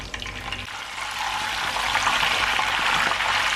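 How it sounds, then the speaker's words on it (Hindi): Cumin seeds sizzle and crackle in hot oil for a tempering over black dal, a steady broadband frying hiss that swells after the first second and holds loud and close to the end, with no voices. "थोड़ा सा जीरा हम ब्राउन करेंगे ना, अभी हो रहा है।"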